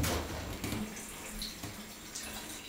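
Tap water runs steadily into a kitchen sink to wash tomatoes, the water set hot; a continuous close rushing stream with no talk.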